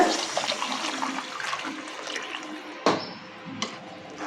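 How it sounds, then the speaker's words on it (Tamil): Hot water is poured into a cooking pot for tomato biryani: a steady rushing gush for a few seconds, then a brief pause and a couple of final splashes, close and fairly loud. "இப்போ தண்ணி சேர்த்துக்கலாங்க"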